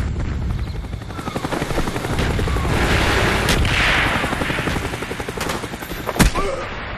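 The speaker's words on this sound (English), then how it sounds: "Mortar coordinates received, firing for effect." Battle din from Call of Duty: Black Ops Team Deathmatch on the Jungle map: a steady helicopter-like roar mixed with scattered gunfire, building through the middle and punctuated by one sharp, loud impact near the end.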